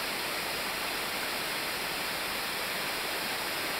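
A waterfall spills over a base of stepped rock, giving a constant, even broadband rush of falling water that holds steady from start to finish, with no voices.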